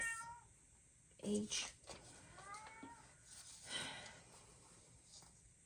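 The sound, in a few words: cat meowing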